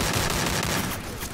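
Gunfire in the Free Fire battle royale game during a pro scrims match, a dense, loud burst of overlapping shots that eases slightly near the end of the short stretch.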